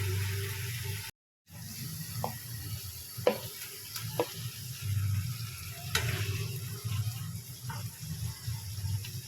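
Spices frying in oil for a pointed gourd curry, a soft, low sizzle with occasional light clinks and scrapes, fairly quiet and close, with a brief drop-out near the start and no talking.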